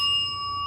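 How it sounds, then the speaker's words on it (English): A single bell struck at the start of a tarot reading rings out clear and bright, its pure sustained tones hanging evenly through the brief moment without fading much. "Let's ring the bell."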